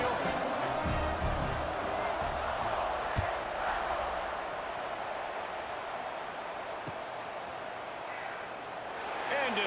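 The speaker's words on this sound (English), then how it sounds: "Do you think this crowd's going to get loud when their defense comes on the field?" Steady roar of a stadium crowd at a football game, a broad continuous wash of distant voices and murmur that holds level throughout and swells slightly near the end.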